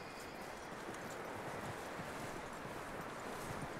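In Red Dead Redemption 2, a horse's hooves tramp through snow with soft, repeated crunching thuds, layered over a constant breathy wash of wind, close and moderately loud, with no voices.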